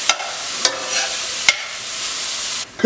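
Finely chopped chestnut mushrooms fry with a steady close sizzle in a pan, broken by a few sharp clacks of a utensil stirring them about.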